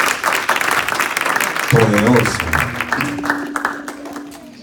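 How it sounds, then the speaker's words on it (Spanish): A church congregation claps for the Lord in a Spanish-language service, loud continuous applause filling the room while a speaker's voice and a sustained musical tone rise over it midway through. "Démosle un aplauso al Señor"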